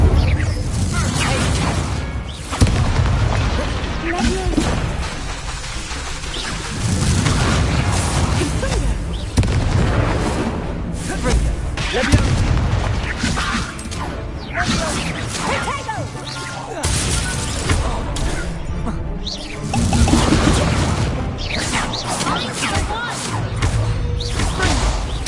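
Fire spell blasts and combat effects in the video game Hogwarts Legacy: repeated whooshing bursts, booming impacts and crashes come in quick succession over a continuous loud game soundtrack.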